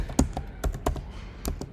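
A computer keyboard is tapped while input is entered at a Python IDLE prompt: about half a dozen sparse, close key clicks with gaps between them and no talk.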